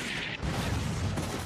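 Missiles strike in the No More Heroes video game, a dense rumbling barrage of blasts that follows a brief high hiss and stays loud and continuous.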